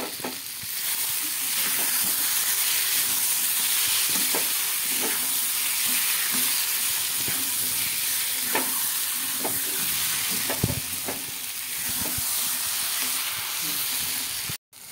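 Kashmiri aloo dum bubbles and sizzles in a pan with tomato sauce and ground melon-seed paste. A steady frying hiss carries on throughout, broken by occasional stirring clicks and spoon knocks, with no talking.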